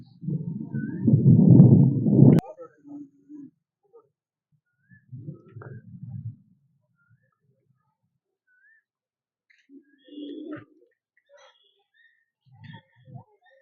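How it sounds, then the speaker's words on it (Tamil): Birds call at Vellode Bird Sanctuary in Erode, with short scattered chirps and whistles spread across a mostly quiet scene after an opening stretch of louder nearby rustling. "குருவிலாம் கத்துது பாருங்க, சவுண்டு கேட்குதா,"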